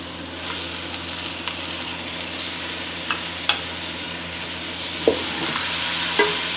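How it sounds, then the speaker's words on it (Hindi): Tomatoes stirred into browned onions in a frying pan give a continuous close sizzle, with occasional light clinks and scrapes of a spoon against the pan. "अब हम इसके साथ ही जो टमाटर 1 पाव मैंने आपको बताए थे वो हम इसके अंदर डालेंगे और इसकी बुनाई करेंगे।"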